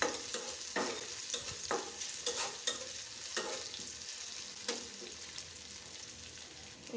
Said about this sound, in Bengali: এখন আমি আরেকটু ভেজে নিব।